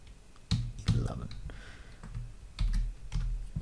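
Spreadsheet formula typed on a computer keyboard: a few scattered, quiet key clicks in short bursts, with a voice speaking over them.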